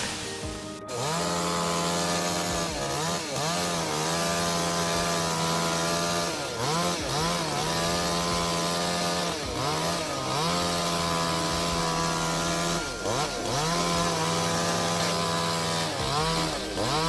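A chainsaw cuts into a tree with a loud, close, continuous engine whine, its pitch dipping and recovering repeatedly as the chain bites into the wood, with no talking.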